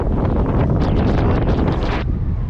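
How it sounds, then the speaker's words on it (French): Strong gusts of wind at the Port de Roumazet mountain pass in the Pyrenees, roaring loudly across the microphone for about two seconds, then dropping abruptly. "On prend le vent, on est au port de Roumazet"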